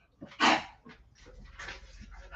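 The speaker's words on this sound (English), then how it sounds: "The dog's in front of you." A dog gives a sharp bark followed by softer whines and yips, close by and fairly loud, with low background noise.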